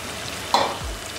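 Chicken fries in a pan as ground masala is added and stirred in, giving a steady, close sizzle broken by a brief stirring scrape.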